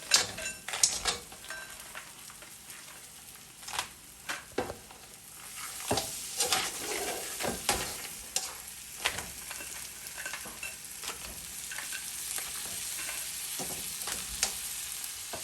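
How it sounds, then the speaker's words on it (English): Crab sizzling in a pan with green seasoning for a Guyanese crab curry, crackling frying under scraping stirs and occasional clinks of a utensil against the pan, close and moderately quiet. "I'm going to add in my crab now."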